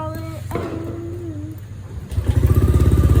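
A repaired motorcycle engine, earlier fixed of a ticking knock, starts up close by and settles into a loud, rapid, steady idle after a brief hum and faint voice.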